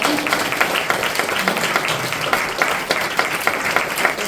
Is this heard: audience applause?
yes